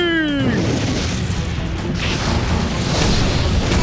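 Cartoon sound effect of a guided missile launching and striking, a brief descending whistle followed by a loud, sustained booming crash and rumble.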